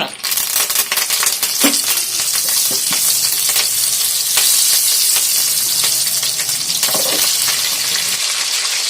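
Continuous crackling sizzle of curry leaves and mustard seeds frying in hot oil, with scattered sharp pops and occasional clinks of stirring, no talking.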